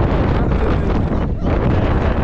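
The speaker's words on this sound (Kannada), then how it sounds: "ಗಾಳಿ" Strong wind on a foggy monsoon trek to Ettina Bhuja near Mudigere, Chikkamagaluru, buffeting the microphone as a loud, continuous roaring gust with a brief lull partway through.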